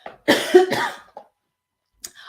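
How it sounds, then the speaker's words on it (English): A couple of harsh, close coughs in quick succession, followed by a faint throat sound after a pause. "Excuse me, I'm going to cough."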